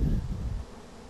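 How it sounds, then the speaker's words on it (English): A large swarm of honeybees on a homestead fills a short moment with a dense, continuous buzzing hum that fades slightly toward the end. "This is a big swarm compared to"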